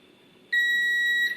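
A multimeter continuity tester checking a motorcycle switch gives one clear, high, steady electronic beep lasting under a second, close and loud above a faint background.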